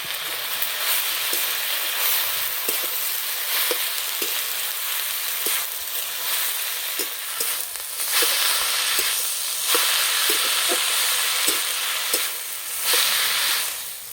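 Nate greens frying with onion in a pan, a continuous loud sizzle with repeated soft scraping strokes of stirring throughout.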